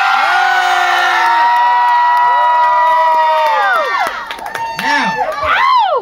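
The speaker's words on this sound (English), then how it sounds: "you guys are gonna scream" A crowd of children at a Rhythm City kids' event screams and cheers loudly on a count of three, a dense burst of high shrieks and whoops close by that trails off into scattered yells.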